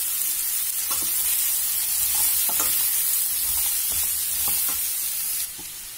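Small chopped pumpkin pieces stirred in a hot pan with green chillies for a pumpkin palya, a steady close sizzle broken by repeated scraping knocks of the spoon against the pan.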